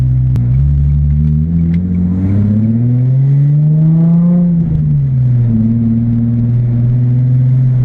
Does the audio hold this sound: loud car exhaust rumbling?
yes